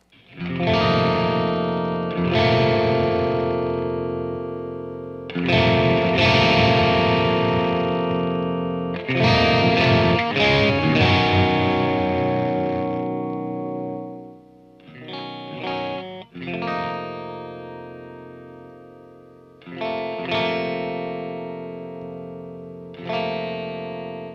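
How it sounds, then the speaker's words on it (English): Electric guitar played through a Mesa Badlander amp with a Mr Scary mod, on the clean channel with the deep switch engaged: ringing chords struck repeatedly and left to sustain and decay, full and close, with no talking. "Now that we're on the clean channel, let's see if we can really hear what the deep switch does."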